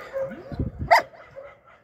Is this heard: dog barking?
yes